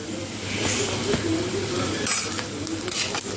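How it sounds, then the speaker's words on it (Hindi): Chopped green chillies and onions sizzle as they lightly brown in a pan, a continuous close frying hiss with a few soft stirring scrapes and light utensil clinks. "हरी मिर्च और प्याज को कट करके मैं हल्के से ब्राउन कर लेती हूँ।"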